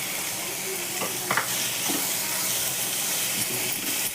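Chana dal fries in hot oil as the base for a spiny gourd (kartoli) vegetable dish. A loud, continuous sizzle with hissing steam comes from close by, broken by several short stirring scrapes against the pan.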